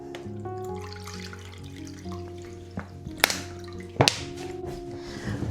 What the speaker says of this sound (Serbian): Sipat ćemo vodu.